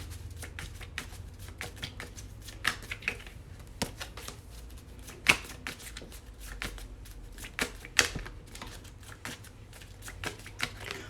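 Tarot cards are shuffled with quiet, rapid papery taps and flicks in an uneven steady rhythm, a few crisper snaps standing out over a low background hum, with no voices.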